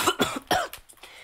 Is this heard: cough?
yes